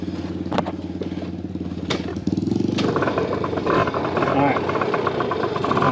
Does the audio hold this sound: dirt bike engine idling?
yes